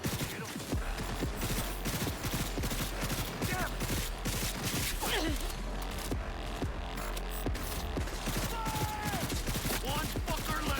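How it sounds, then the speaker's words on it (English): Sustained gunfire in the video game Cyberpunk 2077, rapid overlapping shots cracking in a continuous barrage for the whole stretch, dense and loud with faint voices in the mix. "Open fire!"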